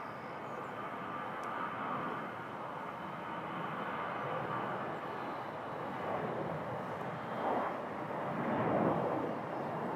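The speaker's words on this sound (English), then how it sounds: "The plane noises specifically?" Aircraft at Toronto Pearson airport, a continuous broad jet roar that slowly swells toward the end, heard at a distance with no voices.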